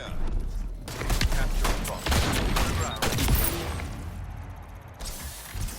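Rapid gunfire from the video game Splitgate 2, dense bursts of shots and clattering weapon mechanisms, loud and busy across the whole stretch with brief lulls.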